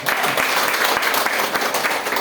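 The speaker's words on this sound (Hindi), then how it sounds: "एंड हमारे होस्ट के लिए ताली होता है" Steady, dense clapping from a crowd fills the whole stretch, loud and continuous without any talking.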